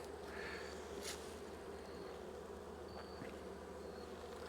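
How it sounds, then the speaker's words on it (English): Bees swarm around a hive being handled outdoors, a steady dense buzz running throughout at an even, close level, with a few sharper passes of individual insects near the ear. "And there's a lot of bees."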